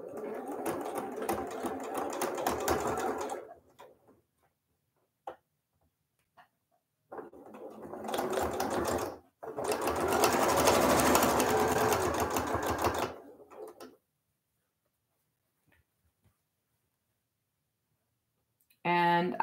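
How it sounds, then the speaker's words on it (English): Sewing machine stitching quilt seams for a pinwheel sawtooth star block, quick bursts of rapid mechanical chatter separated by quiet gaps, close and clear. "I can just do a really quick sew across."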